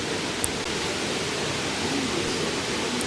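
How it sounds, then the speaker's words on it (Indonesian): Curug Cipurut, a waterfall at the foot of Mount Burangrang in Wanayasa, Purwakarta, roars with a steady, loud, broadband rush of falling water, constant and unbroken, with no voices. "air terjun yang mengalir deras dan suara gemuruh yang menenangkan"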